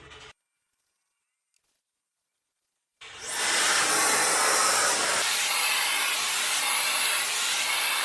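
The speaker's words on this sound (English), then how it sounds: "We're gonna wait for the steam to come out. And there it goes." A GKJ garment steamer with vacuum suction lets out a loud, steady hiss of steam that starts abruptly after a few seconds of silence and carries on to the end.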